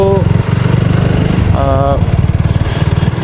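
A motorcycle engine running close by with a rapid, steady low throb while the bike is ridden, and a person speaks over it briefly.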